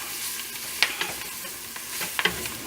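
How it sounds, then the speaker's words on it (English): Onions cook in a pan for Cajun gumbo with a soft, steady sizzle, broken by a few sharp scraping taps of a utensil against the pan. "So we cook the onions in this."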